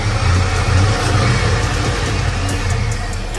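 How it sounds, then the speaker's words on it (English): Steady, loud mechanical drone from a 1986 Monte Carlo SS with a 5.3 LS swap, its fuel pump running constantly under a low, continuous engine rumble. "That fuel pump is just loud"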